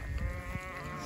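A sheep bleats once among a flock grazing in mountain pasture, a short wavering cry at moderate distance over low rustling and handling noise.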